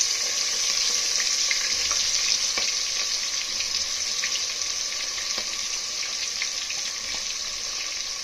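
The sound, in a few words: onions, green chillies and spices frying in oil for mutton biryani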